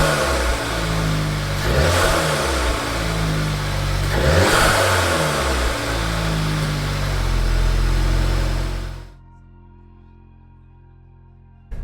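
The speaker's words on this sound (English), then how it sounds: "before I start revving the engine" A VW Golf R MK7.5 fitted with a CTS intake, turbo inlet pipe and turbo muffler delete revs repeatedly in a garage, its engine climbing and dropping in loud, close surges before cutting off abruptly.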